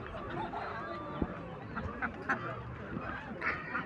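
Geese honking in short, nasal calls scattered irregularly, fairly close, with some faint background murmur, at a bird market in Khamis Mushait, Saudi Arabia.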